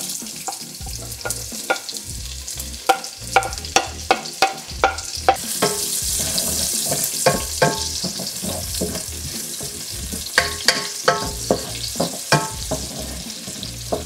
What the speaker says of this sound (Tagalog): magigisa lang ako dito ng onion.